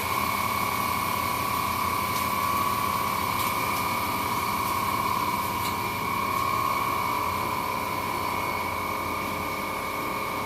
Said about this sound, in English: Oh, that's compressor kicking in.